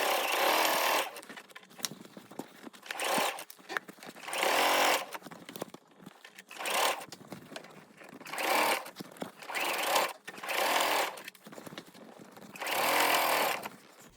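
A sewing machine stitches a Halloween tote bag in several loud, close bursts of rapid whirring, separated by brief pauses.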